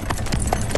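Horse hooves clip-clopping in a quick, steady rhythm of close, loud knocks over a busy, noisy background, lasting under a second.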